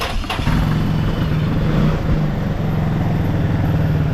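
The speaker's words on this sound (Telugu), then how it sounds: "సో మనం ఇప్పుడు రైడ్ చేద్దాం బైక్ని" A motorcycle engine starts up for a test ride and settles into a loud, close, steady idle with a throbbing low rumble, no talk heard over it.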